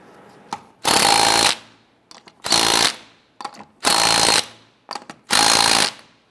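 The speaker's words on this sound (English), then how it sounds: "Torque the lug nuts down to 100 foot-pounds." An impact wrench tightens lug nuts on a Jeep Wrangler wheel in four loud, close bursts of hammering rattle, each about half a second to a second long, separated by short pauses with small clicks.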